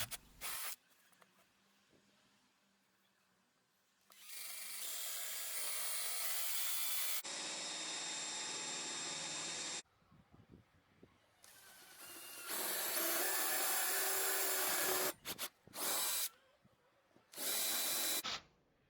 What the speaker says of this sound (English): So I'm just going to drill out some holes for the eyes and mouth.